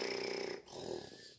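A wolf lying in grandma's bed gives one long, rasping snore followed by a softer snorting breath, close and steady.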